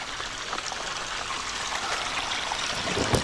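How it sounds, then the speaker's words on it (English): Stream flowing beside a hiking trail among hemlocks, a steady soft rushing and trickling wash heard alone at moderate distance, with no talking. "Now we're starting to hear the water again."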